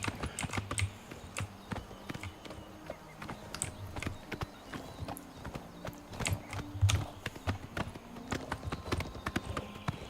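Steady clip-clop of horse hooves trotting in Oblivion Remastered at night, close and continuous, with clicky game-like ambience and no talking.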